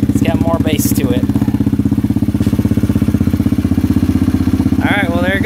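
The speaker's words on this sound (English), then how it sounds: "Sounds very similar to the stock exhaust, but it's more bassier." Kawasaki KLX140 dirt bike fitted with a Pro Circuit T4 exhaust idles up close with a deep, bassy, steady pulsing thump, while someone speaks briefly over it at the start and end.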